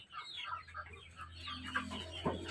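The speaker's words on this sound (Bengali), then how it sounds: "এগুলো হলো গিয়ে মুরগি।" Chickens clucking nearby in a poultry yard, several quick overlapping clucks and short calls over a low steady hum, fairly faint.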